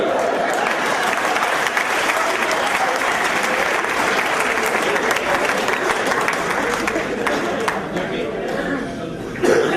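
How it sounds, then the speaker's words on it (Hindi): Live audience at a Hindi poetry recital by Kavi Arun Gemini breaks into steady, loud applause lasting nearly ten seconds, a dense wash of many hands with scattered coughs and murmurs, fading slightly near the end. "बिना कहे तो ताली बजाते नहीं आप लोग"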